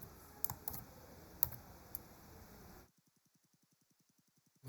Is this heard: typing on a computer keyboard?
yes